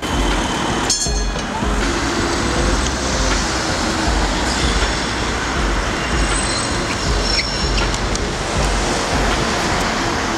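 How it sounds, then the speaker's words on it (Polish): A city tram in Ostrava rumbles and grinds steadily as it pulls in at a double stop, a dense continuous roar of wheels and motor with a brief clank near the start. "Przystanek podwójny, tramwaj zatrzymuje się dwa razy."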